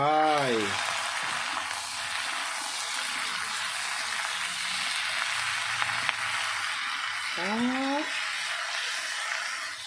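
Shrimp hitting a hot pan and sizzling loudly in a steady hiss of frying, with a voice speaking briefly at the start and again near the end.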